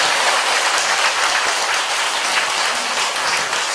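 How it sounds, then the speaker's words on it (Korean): A Buddhist temple audience at a dharma lecture applauds steadily, a dense, continuous wash of many hands clapping together without any talk over it. "박수 치려고?"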